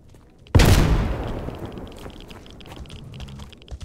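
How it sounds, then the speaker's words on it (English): A grenade thrown at boars in a video game detonates with one sudden, loud blast, then a long rumbling decay that trails off, with faint clicks in the background. "Fucking throwing a grenade at him."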